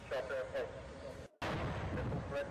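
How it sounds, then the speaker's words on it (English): Explosions in news footage from Abu Dhabi rumble as heavy, booming bursts with a brief gap, faint and distant-sounding beneath broadcast audio. "Footage coming in now from Abu Dhabi,"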